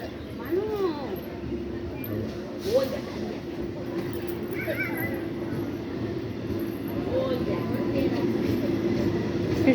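A train pulls in at Khardaha station platform on the Sealdah line, a low steady rumble with a tonal hum while voices carry over the platform.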